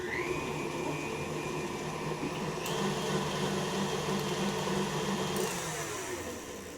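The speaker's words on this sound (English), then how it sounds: "put them in your stand mixer with the paddle attachment. And you just cream that together real nice" A stand mixer with a paddle attachment creaming ingredients for a birthday bake, a continuous steady motor whir with faint scraping, heard alone at moderate level.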